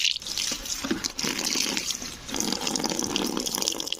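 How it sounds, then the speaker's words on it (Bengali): Bottle gourd leaves washed under a running kitchen tap, with steady splashing water and rustling wet leaves, continuous and close. "চলো পাতাগুলোকে আমি ভালো করে ধুয়ে নিচ্ছি"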